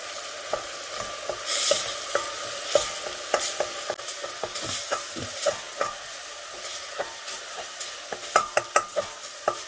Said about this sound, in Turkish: İyice kavuruyoruz arkadaşlar. Salça renk değiştirsin.